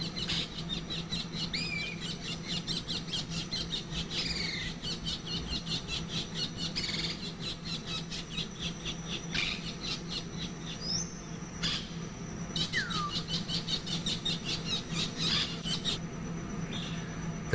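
A Senegal kingfisher stuck in a glue trap set for wild African grey parrots gives repeated thin, high squeaky calls in short bursts, moderately close, over a steady low hum with no speech.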